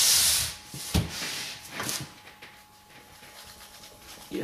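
Hand-plane blade from a WoodRiver V3 plane swiped across a 9 micron abrasive, giving a few soft, close rubbing strokes with hissy scrapes in a quiet workshop.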